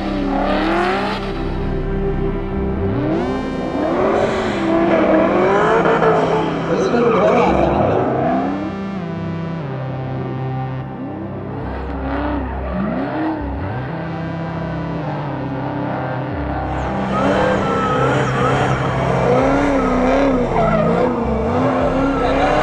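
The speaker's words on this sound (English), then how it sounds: "And it will make the tire smoke." A car doing a burnout at an LS Fest sideshow, its engine revving hard and tires squealing in long loud bursts with brief lulls, close by, while a crowd and voices carry over the noise.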